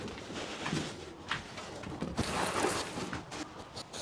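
Pigeons shuffle and coo inside a loft at nightfall, soft intermittent cooing and rustling at close range over a steady low background, with no talking.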